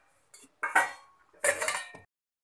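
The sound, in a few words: mixing batter in a bowl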